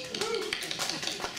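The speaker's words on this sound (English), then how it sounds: "You got a golf clap, man." Sparse golf clap from an audience at a City of Heroes player summit keynote, a few scattered light hand claps, brief and close, with a voice speaking over them.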